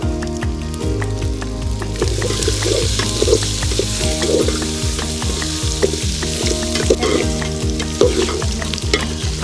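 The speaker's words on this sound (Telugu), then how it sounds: "ఇప్పుడు మనం కట్ చేసుకున్న ఉల్లిపాయ ముక్కలు వేసుకుందాం." Steady loud sizzling of chopped onions and chillies frying in hot oil, with occasional stirring and scraping sounds over a constant crackle.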